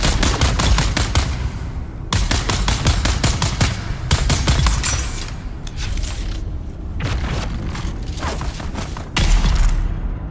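Dense bursts of gunfire aimed at the player in Dune Awakening, rapid and loud, come in several long volleys separated by short gaps, close and continuous with heavy booming low end.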